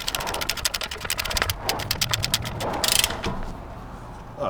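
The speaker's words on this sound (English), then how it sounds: "We use our 35 on our torque wrench." A torque wrench ratchets in a quick run of close, sharp clicks while tightening a Toyota 4Runner CV axle nut, loud and near, and the clicking slows toward the end.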